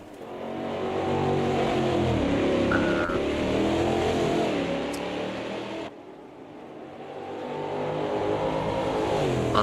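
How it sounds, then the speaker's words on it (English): A race car pulls out of the pit lane at Interlagos in a racing video game, its engine droning steadily with rising and falling revs, loud and close throughout before dipping briefly and building again. "a car leaving the pit lane"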